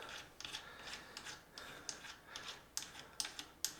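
A thumb screw is being loosened on a Singer 201-2 sewing machine during parts removal for cleaning, giving faint, close metallic ticks and small ratcheting clicks in short irregular bursts in a quiet room.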